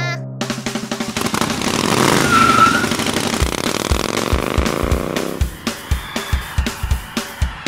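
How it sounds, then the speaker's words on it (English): A motorcycle engine roars up and then settles, ending in a run of rhythmic popping exhaust pulses. "Motorcycle."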